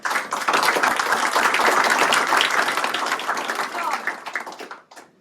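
Fest audience applauds the organizing core team, a loud sustained wave of dense clapping that builds quickly, holds, then tapers and fades away near the end.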